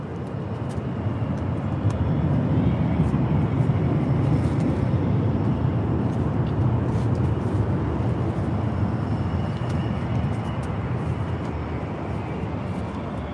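A continuous broadband jet roar from airplanes taking off and landing at San Diego Airport at sunrise hangs in the air, distant and steady throughout with no pauses.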